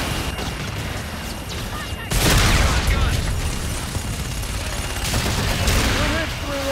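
An aircraft gun run in Call of Duty: Infinite Warfare sets off a sudden heavy roar of rapid cannon fire and impacts that rumble on, swelling again near the end, with radio voices faint beneath.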